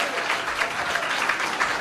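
A live audience in Sarajevo claps at a stand-up comedy show. The applause is loud and continuous, a thick wash of many hands that holds steady for the full stretch.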